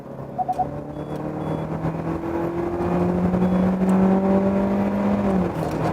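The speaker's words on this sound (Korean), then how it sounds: "휠스핀이 나면서 나가고 있습니다" A Hyundai Sonata Hybrid sedan accelerates hard with wheelspin, engine tone climbing steadily with a whirring drivetrain and brief tire chirps near the start, loud and close.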